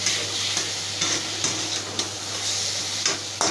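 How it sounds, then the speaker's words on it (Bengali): Potato filling being worked with a metal spatula in a hot pan for aloo paratha, giving a steady soft sizzle with repeated scraping strokes at roughly half-second intervals, close and alone with a low hum beneath. "আমি খুন্তি দিয়ে এটাকে ভালো করে মেখে নিচ্ছি।"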